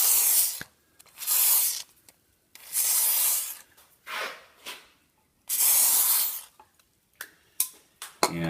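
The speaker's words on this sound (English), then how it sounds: "We'll put a little lube in." Lubricant sprayed before drilling, in a series of short, sharp aerosol hisses, about five main bursts of roughly a second each with quick puffs between, close and loud.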